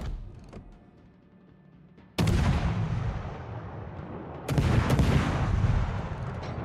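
Naval guns firing in a naval combat game with Japanese destroyers, two heavy booming salvos, each with a long rumbling decay, loud and close, no voices.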